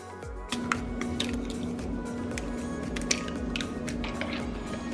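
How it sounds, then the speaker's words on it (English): Three eggs are cracked into a baking bowl: a series of sharp taps and wet, squishy drips sounds up close and fairly quiet, over a faint steady hum. "Next, I'm gonna be cracking 3 eggs."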